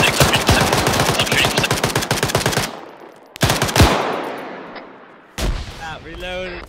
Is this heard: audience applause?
no